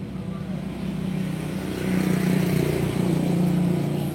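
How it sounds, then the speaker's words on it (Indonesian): Honda CBR motorcycle engine with a throttle position sensor fault, running close and loud with a steady drone that rises as the revs climb and then hold, no voices. "Suara mesin udah oke, tinggal ngayunnya ini di sini di TPS-nya."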